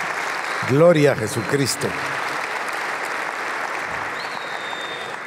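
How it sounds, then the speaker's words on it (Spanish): A church congregation applauds during a sermon, with steady clapping throughout and a voice speaking briefly over it near the start. "Dele un aplauso al Señor."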